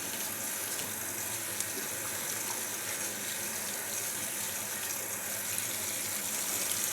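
Tap water runs steadily into a sink during hair washing, a continuous close splashing hiss with no talking.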